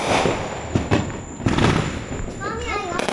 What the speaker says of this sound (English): That is a beautiful firework